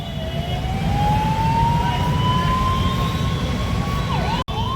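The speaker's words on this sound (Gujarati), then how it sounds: "એમ્બ્યુલન્સ વાળો ફૂલ સિગ્નલ આપે છે આ લોકોને, છતાંય ટ્રાફિક ક્લિયર થતું નથી" An ambulance siren wails in a long rising glide over the hum of surrounding traffic in Surat, then dips and breaks off briefly near the end.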